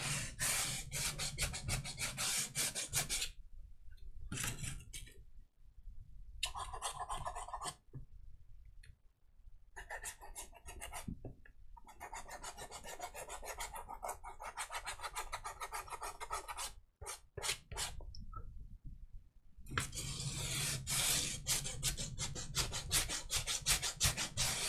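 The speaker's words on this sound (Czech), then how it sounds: "jakmile něco brousíte" A craft bracer is sanded by hand with long, steady rasping strokes in close, loud bursts, broken by a few short pauses between rounds of rubbing.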